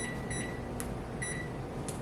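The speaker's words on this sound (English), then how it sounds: "Let's put a timer for the cookies. 10 minutes." A kitchen timer is set for baking cookies. It gives a few short, high electronic beeps spaced about a second apart, with faint clicks between them, in a quiet room.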